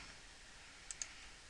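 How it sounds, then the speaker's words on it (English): Two quick, faint mouse clicks on a Preview button in a web page editor, about a tenth of a second apart, over a quiet room hiss with no talk. "if I go up to the top and click on Preview"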